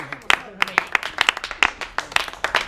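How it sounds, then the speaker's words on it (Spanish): An audience at a freestyle rap battle claps in quick, uneven bursts that make a dense patter of applause through the whole stretch. "Tiempo, aplauso."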